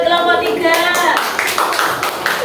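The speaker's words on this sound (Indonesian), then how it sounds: "tepuk tangan buat kelompok 3" A classroom group gives a short burst of applause for a student group, several hands clapping together in a brief ragged patter, with a voice speaking over the start.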